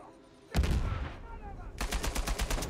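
Sniper and other gunfire in the action video game Uncharted 4, with a burst of loud shots starting partway through and a rapid, rhythmic volley of repeated shots near the end, close and dense.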